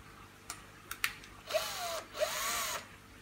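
A small drill fitted with a 3 mm bit, used while fixing decor for a 600-litre Amazonian aquarium, gives a few faint clicks and then two short, quiet whirring bursts, close by with no voices.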